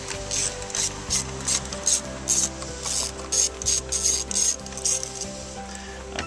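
Ratchet fitted with an M8 socket loosening self-tapping bumper screws on a 2005–2009 Range Rover Sport L320, a close series of rapid clicking bursts with short gaps between strokes.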